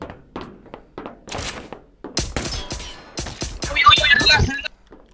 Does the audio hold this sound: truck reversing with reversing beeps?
no